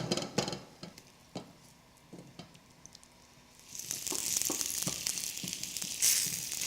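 Onions fry in warming oil in a pan, a quiet start of light clicks and crackles that swells into a steady, louder sizzle in the second half.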